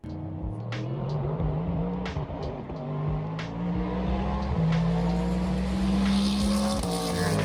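A Bentley race car roars past at the Pikes Peak hill climb, a loud, close engine howl rising through gear changes with a long sustained pitch sweep, dominating the scene alone.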